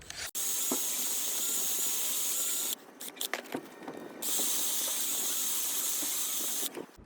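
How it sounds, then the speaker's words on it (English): Wire wheel cleaning brake mating surfaces on a 2016-2021 Honda Civic: a loud high whirring grind runs steadily, breaks into short clanks and taps midway, then resumes at full strength. "now we're gonna clean up all the mating surfaces with a wire wheel or a wire brush"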